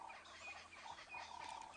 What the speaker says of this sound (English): The birds are going ballistic.